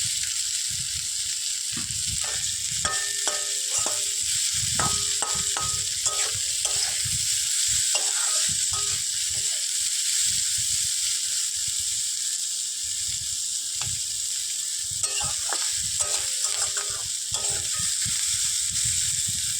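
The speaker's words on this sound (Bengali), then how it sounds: "তো আলু তো ভাজা হতেই থাক" Potato pieces frying in a pan with onion, a constant soft sizzle broken by repeated scraping and stirring strokes in short bursts, close and fairly quiet.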